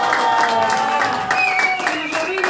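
Guests at a family celebration of a 70th birthday clap together in steady, sustained applause. The clapping is fairly close and mixed with background music tones and voices talking.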